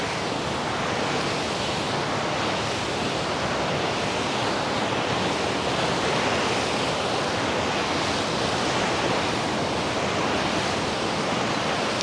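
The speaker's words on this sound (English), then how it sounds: "Now with the sound of the ocean for today's practice" Ocean waves and surf roar as a constant broadband wash, loud and close, steady throughout with no voices over it.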